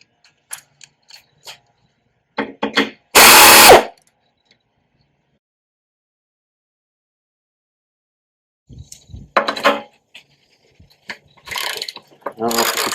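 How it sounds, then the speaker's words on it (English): Air wrench driving out screws on a BMW R18 B TC Roctane motorcycle during a filler panel retrofit, heard as a few sharp ratcheting bursts with one loud sustained whir, separated by quiet gaps and light handling clicks. "I'll use the air wrench to kind of just move things along here a little faster"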